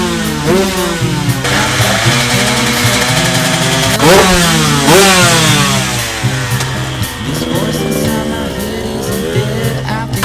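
Gas Gas 150 XC two-stroke dirt bike engine revving loudly and continuously nearby, rising and falling in pitch through repeated throttle blips and sustained high revs.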